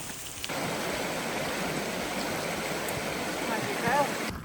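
A river rushes steadily nearby in the New Zealand backcountry, a broad continuous wash of flowing water that holds even from start to finish, with a brief higher trickle near the end.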